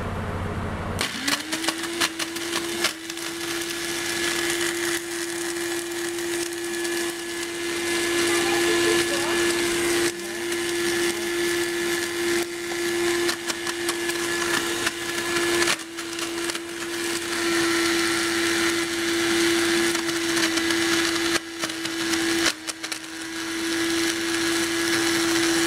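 A kitchen blender grinds bread into breadcrumbs with a steady, loud motor whine and coarse rattling of bread pieces, running continuously for the whole stretch.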